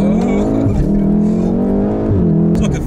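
A 600bhp VW Golf R accelerates hard, its engine roaring loud and close as the pitch climbs steadily through the gears, with a brief shift near the end.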